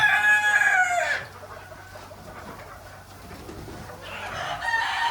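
Desi country chickens on a poultry farm of about 1,500 birds crow and cluck loudly at the start and again near the end, with quieter fowl calls and a steady hum between.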